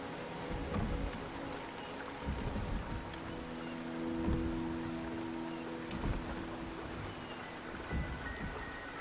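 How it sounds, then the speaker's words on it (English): Steady rain falls in the Wuthering Waves video game, a soft continuous patter on surfaces with occasional louder drops and a low rumble underneath, heard alone without voices. "The rain is subsiding, and the sky will soon clear."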